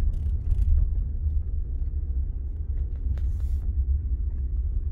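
A Tata Nexon XM(S) driving at night, its low engine and road rumble droning steadily from inside the cabin, with a few faint clicks and a brief hiss partway through.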